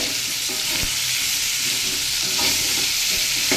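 Elephant foot yam and prawns, seasoned with salt and turmeric, fry in oil with a steady, full sizzle and crackle, punctuated by occasional soft knocks of stirring.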